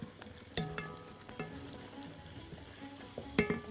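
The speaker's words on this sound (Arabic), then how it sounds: "البصلة بتاعتي بشوحها" Onion sautés quietly in a pan with a low frying crackle, while a utensil stirs and taps the pan in a few sharp knocks, close and faint.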